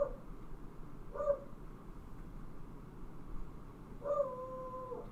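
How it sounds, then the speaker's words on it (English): A dog outside gives a few whimpering yips followed by a longer wavering howl, heard at a distance and fairly faint, separated by quiet pauses with no talk. "my dog is barking outside"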